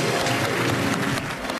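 A short, dense burst of clapping from a crowd welcoming a guest on a comedic game-show stage, loud and continuous before cutting off abruptly.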